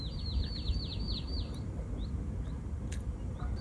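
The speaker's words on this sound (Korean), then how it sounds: "새소리 너무 좋죠?" Songbirds singing at a spring cherry-blossom campsite, one bird giving a rapid trilling run of repeated notes followed by scattered chirps, heard over a steady low background rumble.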